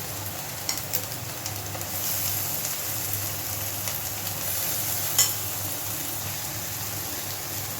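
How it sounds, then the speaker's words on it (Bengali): Marinated soya mince frying with onions in a pan sizzles steadily and close, with a soft background hiss and an occasional scrape or clack from stirring, with no talk. "এইবার আমি এই পেঁয়াজটার মধ্যে দিয়ে দেবো ম্যারিনেট করে রাখা সোয়া কিমাটা"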